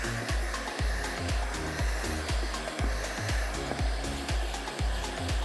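A heat gun blows hot air onto film on a Kia Optima rear window, a steady close whirring roar with a rhythmic pulsing thump repeating about twice a second throughout.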